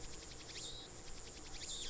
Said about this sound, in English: The only sound is the chirping of the cicadas.